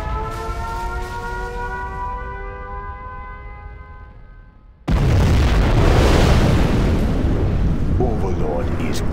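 A nuclear missile detonation in the real-time strategy game Command & Conquer Generals Zero Hour: a sudden, loud, sustained roaring blast that swells after a fading tonal chime and keeps rumbling to the end.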